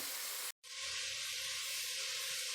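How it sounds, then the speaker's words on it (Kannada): Onions frying in hot oil, a loud continuous hiss and sizzle with a brief gap near the start, then steady and close. "ಎಣ್ಣೆ ಕಾದೈತೆ ಇವಾಗ ನಾನು ಈರುಳ್ಳಿ ಹಾಕೋತಾ ಇದ್ದೆ ಇದು ಈರುಳ್ಳಿ ಸ್ವಲ್ಪ ಚೆನ್ನಾಗಿ ಫ್ರೈ ಆಗಬೇಕು"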